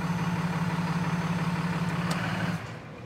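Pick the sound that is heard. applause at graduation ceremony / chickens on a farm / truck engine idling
truck engine idling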